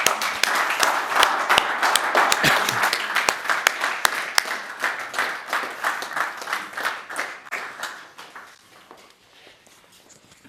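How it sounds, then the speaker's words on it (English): Crowd applause at the BIOPOLYMER 2024 innovation awards closing: dense, steady clapping from many hands that gradually thins into scattered claps and fades out near the end. "Please give warm hands and applause for everyone."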